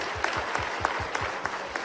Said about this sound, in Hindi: ये जोरदार ताली बजाओ